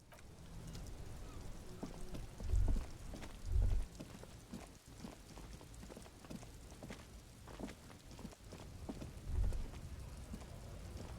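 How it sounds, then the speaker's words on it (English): Rain in the video game Disco Elysium, a quiet steady wash of rainfall with a few soft low thuds rising out of it at intervals. "Stuck in the rain in a traffic jam, man."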